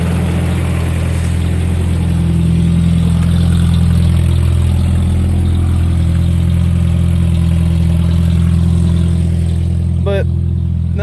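A Toyota engine undergoing timing chain repair idles steadily with a smooth low hum and a slight belt whir, close and constant, with a brief click near the end.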